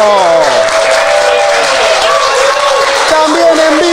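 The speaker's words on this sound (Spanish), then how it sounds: "¡Aplausos!" A live TV studio audience applauds loudly and continuously while voices and tonal sounds ring over the clapping.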